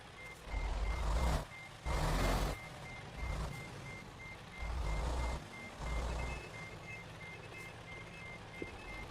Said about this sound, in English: I want to back the cab up that way, and I can't.